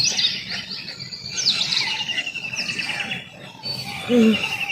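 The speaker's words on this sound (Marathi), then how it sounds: "त्यामुळं पक्ष्यांचा जास्त किलबिलाट होतो." Birds chirp and tweet around an old Shiva temple in spring, with several overlapping calls at a moderate distance and a louder call near the end. No talk is heard.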